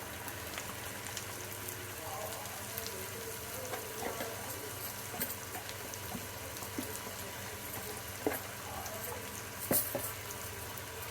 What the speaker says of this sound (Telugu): క్యాబేజీ వేస్తున్నాను